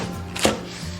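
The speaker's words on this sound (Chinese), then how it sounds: "准备一根小葱切断" A single knife chop through a scallion on a cutting board, one short, crisp knock in the middle of an otherwise quiet kitchen moment.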